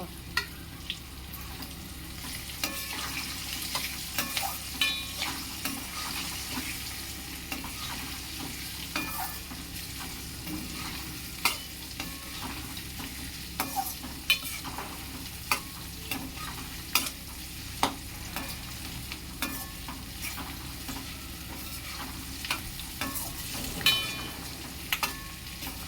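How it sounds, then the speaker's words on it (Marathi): Green chillies drop into hot oil for a tempering with curry leaves and turmeric while making chivda. A steady, close sizzle runs throughout, broken by sharp intermittent clicks of stirring, with no voices. "फोडणीमध्ये आता मिरच्या टाकतो."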